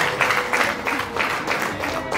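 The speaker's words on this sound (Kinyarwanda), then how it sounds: "mumuha amashyi cyane" Wedding guests applaud, steady clapping from a crowd filling the space with a continuous patter.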